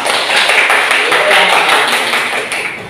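Classroom of students clapping together during a lesson, a dense burst of hand claps close by that tapers off toward the end.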